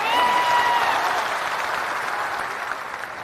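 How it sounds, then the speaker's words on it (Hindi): An audience at a political rally in Bihar breaks into sustained loud applause to welcome guests. The dense clapping starts strong and tapers gradually, with no clear voice on top. "एक बार जोरदार ताली से इनका स्वागत कीजिए"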